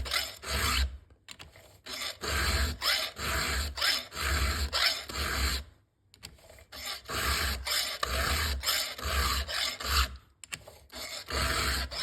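A hand file rasps across chainsaw teeth in steady back-and-forth strokes, each pass a gritty scrape, with brief pauses between runs of strokes; close and alone with no talking.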